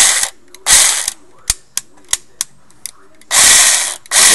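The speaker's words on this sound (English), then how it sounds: "You hear the gear spinning." Gearbox of an ECHO 1 USA Platinum M4 airsoft gun, loud whirring bursts of spinning gears separated by sharp mechanical clicks and ratcheting ticks, close up.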